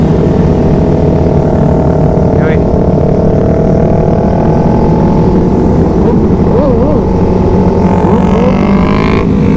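Motorcycles and big touring motorbikes rumble together as a group gets ready to set off on a ride at a Halloween run event, engine drone steady and close throughout, with voices talking over it.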